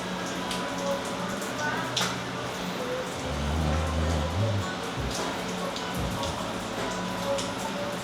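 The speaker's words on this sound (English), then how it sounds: "Apparently this rain is going to be for the whole weekend." Steady rain falls throughout, a dense even hiss with scattered drops, heard during an arm wrestling practice session in Pinellas County, Florida, in early July, with faint voices under it.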